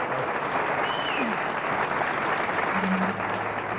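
A bowling crowd at a 1982 PBA Columbia 300 Open event breaks into sustained applause, a dense, steady wash of clapping that fills the whole stretch at a consistent level.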